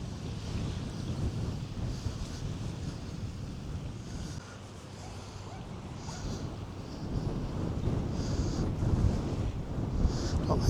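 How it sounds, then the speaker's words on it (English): Steady wind gusting across a seaside promenade in Fuengirola, a continuous rushing roar buffeting the microphone, swelling louder toward the end with faint surf beneath. "there's a bit of wind picking up"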